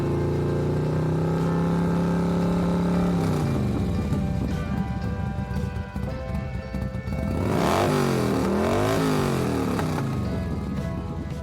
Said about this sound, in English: the light of the hog came on and the engine roared